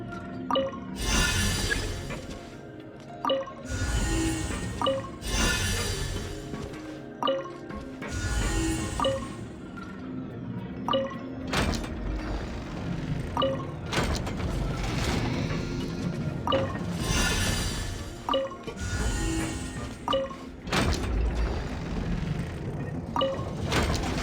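Water rising in Genshin Impact, a steady rushing and sloshing flow broken by repeated dripping and clinking splashes, moderately loud and continuous, with no voices.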